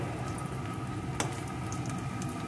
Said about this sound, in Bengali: পেঁয়াজটাকে একটু ভেজে এর ভিতরে দিয়ে দেবো দুটো কোচানো কাঁচা লঙ্কা।